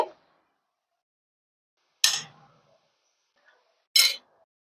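A knife cuts into a mango semolina rasbori pitha on a plate, giving three short, sharp clinks against the plate with quiet gaps between them.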